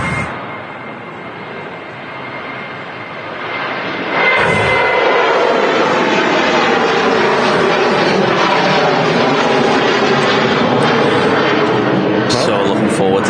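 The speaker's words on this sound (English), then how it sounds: "Rolling first will be the Jet2 to Faro." Jet2 airliner taking off from Manchester Airport for Faro: a quiet start gives way to a loud, sustained jet roar that holds steady to the end, with voices faintly under it.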